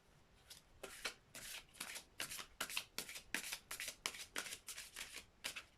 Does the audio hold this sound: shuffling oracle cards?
yes